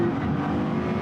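A drag race between a Bugatti Chiron, Tesla Plaid and Lucid Air Sapphire, heard as one brief, loud, sustained roar of cars accelerating hard, steady and close for about a second.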